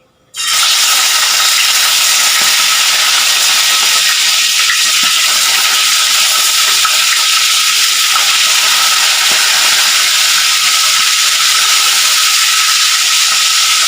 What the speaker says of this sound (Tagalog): Ito, salang ko naman ang isda sa prito.